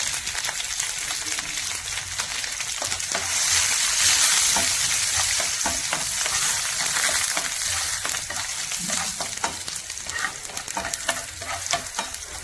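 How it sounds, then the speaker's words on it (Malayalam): Shallots, cut chillies and curry leaves crackling in hot oil for a Kerala tempering, a loud, busy sizzle full of rapid pops and spatters with stirring, close by and sustained throughout. "കുറച്ച് ചെറിയുള്ളി ഇട്ടു ചെറിയുള്ളി ഒന്ന് മൂത്ത് വന്നപ്പോൾ രണ്ട് മുളകും മുറിച്ചിട്ട് രണ്ട് കറിവേപ്പിലയും കൂടെ ഇട്ടു"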